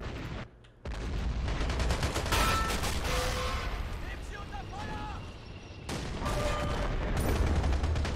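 Autocannon and other gunfire roar through a World War II battle in Men of War: Assault Squad 2, a dense continuous barrage of shots with scattered sharper reports and faint tonal sounds over the din.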